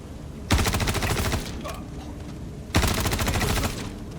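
Turret gunfire in a space video game: two long, loud bursts of rapid automatic fire, close and dense, separated by a quieter gap with faint noise.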